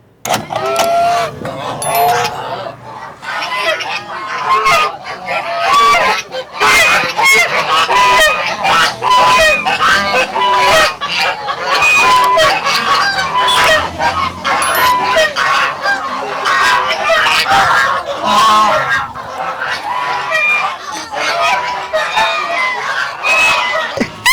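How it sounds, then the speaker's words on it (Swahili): A loud, continuous chorus of domestic geese honking from a close flock on a farm, overlapping calls filling the whole stretch with no pause. "Hapa ni bata bukini."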